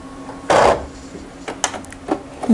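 A sewing machine stitches a zip pocket while its handwheel is turned by hand: a short mechanical burst, then scattered light clicks and taps at close range.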